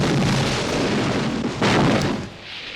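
Explosions and gunfire from the 1986 war film Platoon, a dense rumbling barrage of blasts with a sharper burst near the end, loud and continuous.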